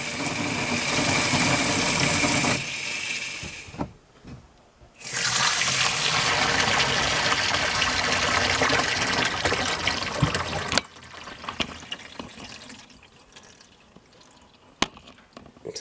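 Water draining from a home boiler's expansion tank during a DIY repair, a loud continuous rushing gush that briefly cuts out, surges again, then drops to a softer trickle with a few clanks.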